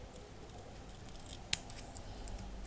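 Scissors cutting out a small piece of material at a bedroom build, with faint quiet snips and one sharper near snip midway through the stretch.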